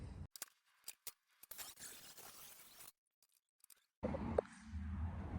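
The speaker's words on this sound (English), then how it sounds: "I got the first cut made on the trailer fender" A trailer fender being cut for fender tubbing on a Tacoma truck gives bursts of scratchy, rasping cutting noise broken by pauses, then a steadier low hum.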